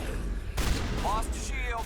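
Shotgun fire in Mass Effect Legendary Edition, a sudden broad blast that swells into a sustained roar of combat noise with whining energy tones, loud and close amid battle.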